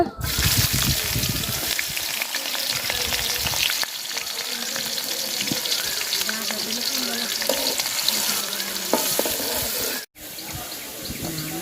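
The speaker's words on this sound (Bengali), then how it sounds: "ফাতিলে তেল দিয়ে দিব আগে বেরেস্তা বাজা নিব তো পেঁয়াজটি দিয়ে দিব" Sliced onions fry in hot oil for beresta, making a loud, dense, continuous sizzle up close, with stirring scrapes and a brief drop-out near the end.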